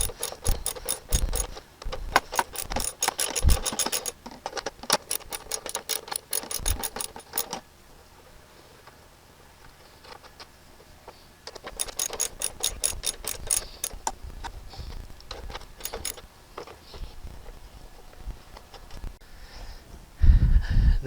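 A hand ratchet with a 3/8 socket loosens bolts on a 2003 Toro Personal Pace Model 20017 walk-behind mower. Rapid, close clicking comes in long bursts, pauses for a few seconds, then resumes, ending with a heavier clunk.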